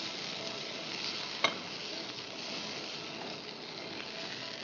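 Soaked raisins lightly sautéing in a pan give off a soft, steady sizzle with quiet stirring, broken by one sharp tick early on.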